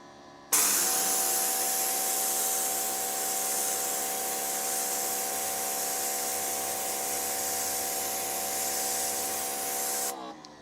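Greenworks 3000 PSI electric pressure washer sprays with a turbo nozzle, giving a loud, continuous hiss with a steady motor hum for about ten seconds before cutting off abruptly.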